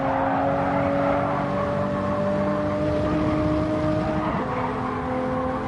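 A racing car engine in a racing video game drones loud and constant at high revs, holding a steady pitch before a brief drop as it shifts down a gear, with no talk.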